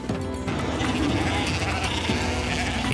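Sheep in Iceland bleat repeatedly in a wavering chorus, fairly close and continuous, alongside an outdoor background and what may be voices.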